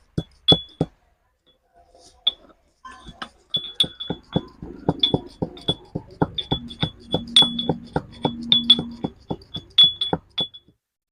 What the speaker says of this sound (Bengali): একটু আদা গুঁড়ো করব।